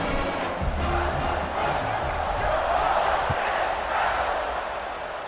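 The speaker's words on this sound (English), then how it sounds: "this crowd is feeling themselves after that last drive" A stadium crowd in College Football 26 keeps up a broad, steady roar of cheering at moderate loudness, with faint thumps and shouts mixed into the wash.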